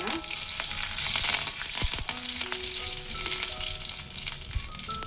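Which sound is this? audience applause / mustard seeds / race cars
mustard seeds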